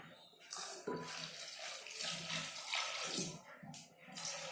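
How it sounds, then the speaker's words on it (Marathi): Water is poured from a jug into a cooking pot in a continuous splashing stream with short breaks, close and fairly soft, with no talk. "1 तांबे पाणी ओतलंय बघा"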